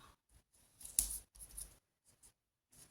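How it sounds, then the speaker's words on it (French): A few quick crackling rips of tape pulled off a roll, close and crisp, with short pauses between pulls and no talking. "je le replie à l'arrière et je mets du scotch"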